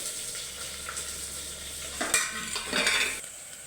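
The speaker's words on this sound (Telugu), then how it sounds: "తెల్లగడ్డ, ఎల్లిగడ్డ వేసుకుంటున్నాను. ఎల్లిగడ్డ వేస్తున్నాను." Garlic tossed into a hot frying pan, a low steady sizzle swelling into a brighter crackling burst as the pieces hit the oil, with a scrape or two of a spoon, close and without talk.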